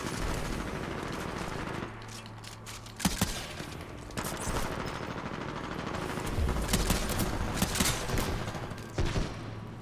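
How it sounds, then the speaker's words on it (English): Continuous automatic gunfire in Titanfall 2 multiplayer combat, dense overlapping bursts from several directions with a few sharper close shots standing out above a steady battle din. "I'm getting shot by all directions"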